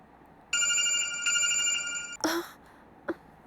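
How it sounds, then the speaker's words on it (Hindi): A mobile phone rings with a bright, electronic multi-tone ringtone that starts abruptly, sounds loud and near for about two seconds, then cuts off, followed by a couple of sharp handling clicks. "अपना फोन अभी बंद करो"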